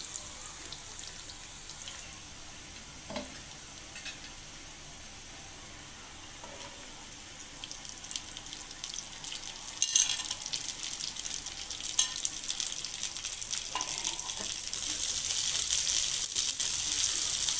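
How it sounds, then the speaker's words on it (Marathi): Cluster beans frying with garlic in a pan, a soft steady sizzle with occasional stirring scrapes and clinks, growing louder and brighter toward the end. "लसूण थोडासा लालसर झाला की आपण यामध्ये गवार परतवून घेऊया।"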